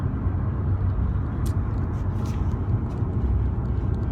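A car overtakes on the road, heard from inside a moving vehicle as a steady low engine and road rumble with a brief passing swell, with no talking.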